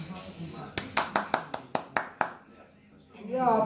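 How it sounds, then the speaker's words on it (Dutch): A few people clap about nine times, sharp, close and unevenly spaced, for under two seconds before fading into quiet, with voices talking before and after. "Ja, applaus."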